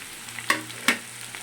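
Thick strips of capsicum frying in a pan give a low, steady sizzle, broken by two sharp scraping clatters of stirring about a third of a second apart, with no voices.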